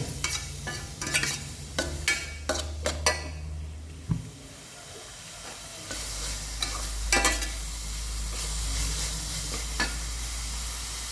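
Bitter gourd sautéing in a pan, a utensil scraping and clinking in quick strokes at first, then a broad hiss of sizzling with scattered stirs, close and without talk.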